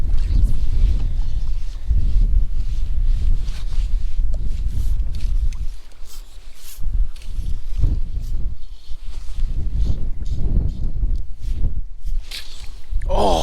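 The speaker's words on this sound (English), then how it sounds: "This wind is not helping us though." Wind gusting over a river during a fishing trip, a loud rumbling buffet against the microphone that rises and falls throughout, with brief knocks and movement but no talk.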